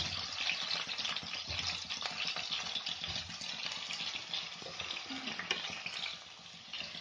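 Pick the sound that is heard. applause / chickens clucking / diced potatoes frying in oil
diced potatoes frying in oil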